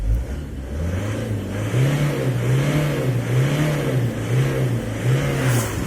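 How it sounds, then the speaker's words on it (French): A Peugeot van engine idles, then is revved repeatedly in a steady wavering rhythm, the loud mid-pitched drone rising and falling close by with no talk over it. "Désormais le fourgon on le met en route, il démarre donc parfaitement bien"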